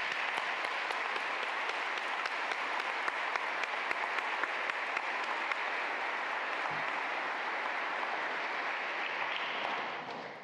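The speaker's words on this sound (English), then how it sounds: "I think we should all give them a round of applause." A congregation applauding at a Catholic bishop's installation in Columbus, Ohio: steady, dense clapping from a large crowd filling a church, sustained for about ten seconds before fading slightly at the end.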